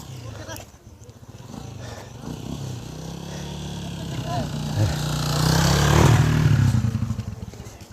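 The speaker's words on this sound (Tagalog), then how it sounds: "Tabi, may motor." A motorcycle rides across Haduan Bridge in Mabalacat, Pampanga, its engine rumbling louder as it draws near and peaking close by before easing off, with people talking over it.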